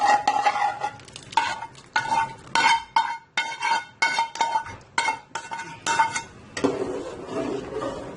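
Spoon stirring white sauce with vegetables and fried chicken in a pan, a series of rhythmic scraping and clinking strokes, close and fairly loud, with no talk.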